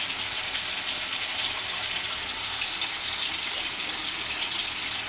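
Tomatoes cooking in oil for a hotel-style tomato thokku bubble and sputter in a steady, dense, hissing froth, loud and continuous, with no talking.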